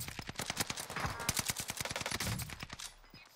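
Rapid automatic gunfire in a first-person shooter game, a fast string of sharp close shots in quick bursts that thin out and stop near the end, with no talk over it.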